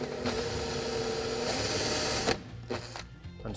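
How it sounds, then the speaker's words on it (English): A power drill bores pilot holes while fitting a Kessebohmer Magic Corner kitchen cabinet unit, a close, steady whirring run that cuts off, followed by shorter bursts of drilling. "And now drill pilot holes."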